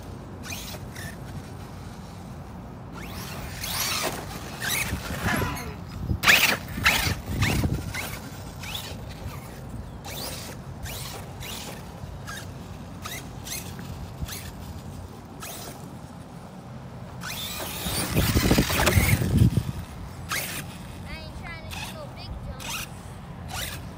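An Arrma Kraton 6S RC car runs at half throttle in quick, scratchy whirring bursts, loudest around the middle and near the end, with voices talking between passes.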